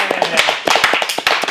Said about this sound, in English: So let's clap for Katz